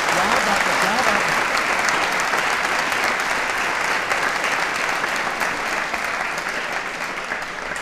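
Sustained, dense applause from an audience at a college quiz show on elections, loud and steady throughout, easing slightly toward the end, with a voice briefly audible early on.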